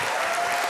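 An audience claps in a school auditorium during a spring choral concert, a dense, steady wash of many hands filling the whole brief moment.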